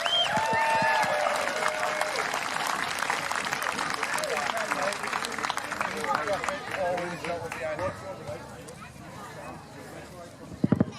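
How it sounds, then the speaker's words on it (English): Audience applause and crowd noise at the Peak District Highland Games 2022 during the log press event, sustained clapping and cheering outdoors for roughly the full length, with a burst of sharper claps near the end. "big round of applause for Matt Nethercourt."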